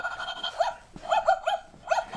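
Several quick electronic barks from a robot toy dog come in two or three bursts with short pauses between them, close and moderately loud, with no talking over them.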